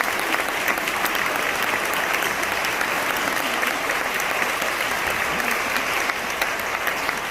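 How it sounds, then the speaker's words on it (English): Steady, dense applause from a concert audience after a middle school all-county band performance, a loud continuous wash of many hands clapping without a break. "Let's give another round of applause for the amazing middle school all-county band"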